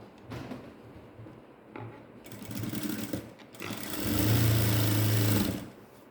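Domestic sewing machine stitching a dart on ladies' straight pants, in short bursts of quiet whirring with pauses and clicks of handling, ending in a longer steady run before stopping.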